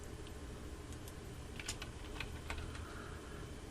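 Keys tapped on a computer keyboard while typing an option into a LinkedIn poll on a PC, a faint scatter of light clicks over steady background hiss.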